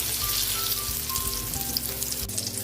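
Tortang talong, a Filipino eggplant omelette, sizzles and fries steadily in a pan, a close, continuous crackle with no talking.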